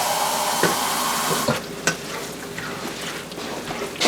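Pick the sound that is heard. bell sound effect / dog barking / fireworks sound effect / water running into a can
water running into a can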